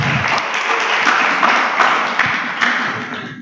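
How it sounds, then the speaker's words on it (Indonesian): Audience at an authors' meeting in East Kalimantan applauds fellow attendees who asked questions, a continuous sustained round of clapping with a few sharper claps standing out. "beri tepuk tangan dulu untuk teman-teman kita yang sudah bertanya."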